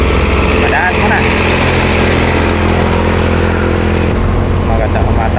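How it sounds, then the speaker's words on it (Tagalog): A 2014 Honda Beat Curve motorcycle engine runs steadily nearby. It makes a loud, continuous low drone that holds an even pitch from start to finish, with road and wind noise mixed in. "Dala ko ngayon ay Honda Beat Curve."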